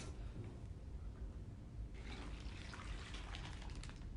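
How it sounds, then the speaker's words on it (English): Water poured into a plastic bag up to a marked fill line, a soft steady pouring and trickling that grows brighter and fuller partway through, heard alone at close range. "we're going to pour the water into this bag just up to the fill line"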